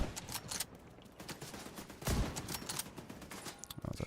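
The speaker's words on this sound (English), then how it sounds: "it's a grenade launcher" Gunfire and explosive blasts fill a firefight in The Division 2, with a grenade launcher among the weapons, heard as dense overlapping shots, a heavy boom midway, and rapid bursts continuing near and loud with no voices.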